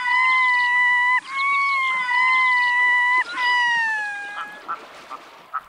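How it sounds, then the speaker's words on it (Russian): Long, mournful wailing calls of a loon ring out clearly over Arctic tundra in the Lena River delta, Yakutia, several drawn-out tones in sequence, fading to quieter sounds at the end. "Часто над тундрой можно услышать заунывные звуки. Это плачут гагары."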